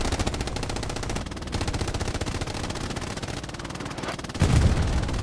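Coaxial machine gun of a Panzer IV tank firing in the Hell Let Loose World War II game, a loud rapid continuous burst with brief pauses between strings, ending in a heavier boom near the finish.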